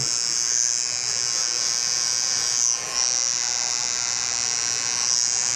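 An electric hair trimmer buzzes steadily and close during a taper haircut, held at a slant. The high whine stays constant, with a brief dip as the blade moves through the hair.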